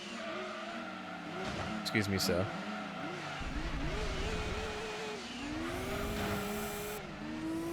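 Race car engines drone and rev with tire squeal in the Gran Turismo 2 racing game, shifting engine tones and a short skid screech over several seconds while someone talks over them.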